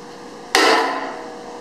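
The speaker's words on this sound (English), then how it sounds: "Try to hit the sweet spot of the bat." A wooden baseball bat strikes a metal pipe once with a sharp, loud impact that rings briefly before fading, heard alone and close up.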